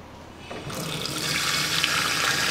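Cold water pours steadily from a kitchen tap into a sink, starting softly and then swelling into a loud, continuous rushing splash that runs without pause.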